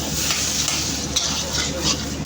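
Shak chorchori, a dish of leafy greens, is stir-fried in a restaurant kitchen, filling the air with a dense, constant sizzle and faint clinks of a utensil against the pan.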